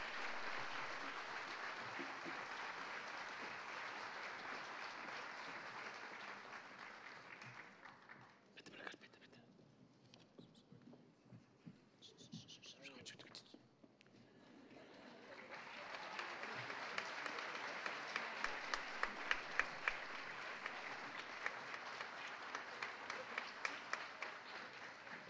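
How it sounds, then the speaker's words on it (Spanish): Audience applause at a school graduation ceremony for eighth-grade basic students, steady dense clapping that fades into a quieter lull midway, then swells again loud and sustained to the end. "Les pido por favor un gran aplauso"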